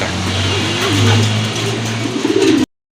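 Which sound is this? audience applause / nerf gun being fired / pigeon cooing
pigeon cooing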